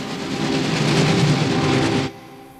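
A streamlined passenger train running on rails, a loud, close, steady roar with rhythmic clatter that cuts off abruptly near the end, leaving a faint background.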